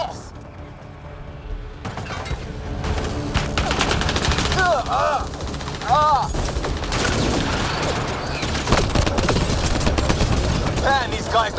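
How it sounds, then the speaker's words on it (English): Sustained gunfire from the video game Mass Effect Andromeda keeps up as loud, dense overlapping bursts with explosive booms and mechanical clatter, and voices shout over the firefight. "Just keep firing, we can do this!"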